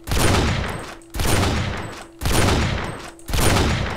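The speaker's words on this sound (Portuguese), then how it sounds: "Trocando tiro." Four dense, sustained bursts of rapid gunfire in the video game SA-MP DayZ, each about a second long with short gaps between, loud and close.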